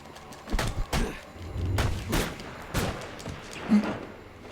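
Sniper gunfire in Batman: Arkham Origins: scattered loud shots and thuds in uneven bursts, some close together, over a rumbling game background.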